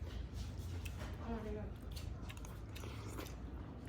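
Someone chewing vegetables while eating makes soft, close crunching and squishing bites under low background noise, with a brief hum of voice partway through.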